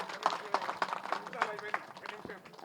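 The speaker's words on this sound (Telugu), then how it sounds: "ఒకసారి గట్టిగా క్లాప్ చేద్దాం ప్రసాద్ గారికి" Audience clapping for a speaker at a gathering, a fast, uneven patter of many hands held at moderate level across the whole moment, with voices faintly mixed in.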